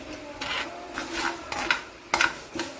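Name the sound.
mustard seeds frying and being stirred in oil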